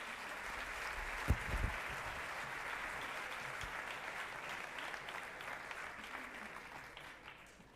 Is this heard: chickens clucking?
no